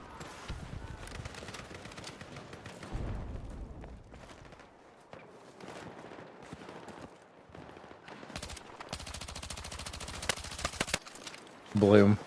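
Bursts of automatic gunfire from an SMG and other weapons in the shooter video game Battlefield, a rapid sustained volley near the end, mixed with game effects under a player's talk.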